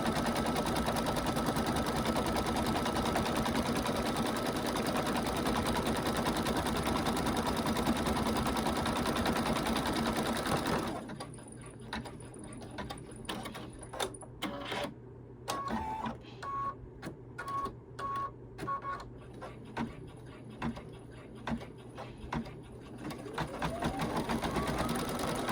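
A sewing machine stitches a small eyelet opening at the top of a ghost peek-a-boo treat bag, first as a steady loud whir for about ten seconds, then in short stop-start bursts with brief pauses.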